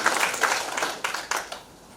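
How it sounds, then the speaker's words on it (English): Audience clapping for Onesmo, coalition leader, at a human rights defenders event in Tanzania; a dense burst of applause that thins out and fades within two seconds, with no talking. "Let's clap for Onesmo."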